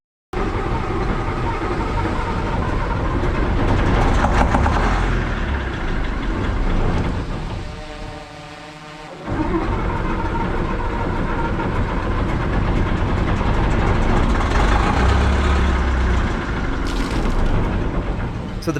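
A loud, rough diesel engine of a Tatra OT-64 armored vehicle running steadily up close, briefly dropping off for a moment before roaring back at full volume.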